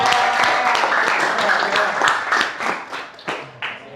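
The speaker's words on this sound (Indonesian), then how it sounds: "tepuk tangan dulu dong buat diri kalian sendiri" Students in an Indonesian classroom clap together in dense, steady applause that fills the room, with voices mixed in and the clapping thinning toward the end.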